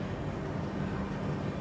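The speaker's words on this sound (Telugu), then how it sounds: "నిలబడట్లేదు ట్రైన్, వెళ్ళిపోతుంది." A passenger train rolls through Guntakal junction without stopping, heard from inside a 3-tier AC coach as a steady, dense rumble of wheels and carriage noise with no talk.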